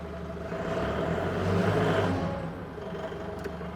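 A heavy diesel engine of an Octane FD25BCS 5,500 lb forklift rumbles close by as it moves off, its revs rising and then easing back, with a brief high whine near the end.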